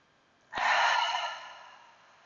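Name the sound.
deep breathing in and out through the nose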